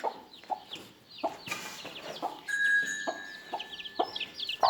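İspenç crossbreed chicks cluck and peep in short repeated bursts nearby, with a steady high chirping tone joining partway through.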